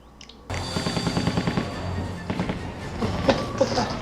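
Real gunfire in a TV show, heard as a sudden burst of rapid, loud shots and clatter that keeps going in irregular bangs over a dense, noisy background.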